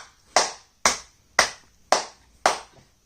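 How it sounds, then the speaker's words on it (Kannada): Children applaud a classmate in five sharp, unison claps spaced roughly half a second apart, each crack bright and close, fading quickly into near silence, with no voices. "ಚಪ್ಪಾಳೆ ಹೊಡೀರಿ."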